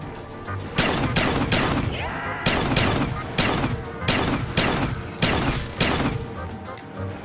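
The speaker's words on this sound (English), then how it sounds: "This shotgun's actually kind of clutch." Repeated heavy shotgun blasts in Call of Duty Black Ops 3 zombies, about nine loud booming shots in an uneven rhythm, each with a short decaying tail, over game music and background noise.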